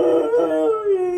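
A pet dog howling at home, one long wavering mournful howl that slides downward, close and loud, with no talking over it.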